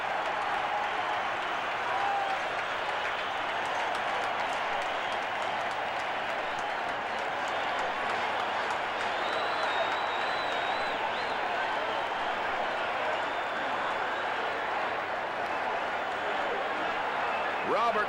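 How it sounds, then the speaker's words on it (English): A stadium crowd cheering at a 1979 Giants–Saints NFL football game in New Orleans, a continuous dense roar with whistles and scattered claps, steady and loud throughout with no pause. "This crowd is going crazy."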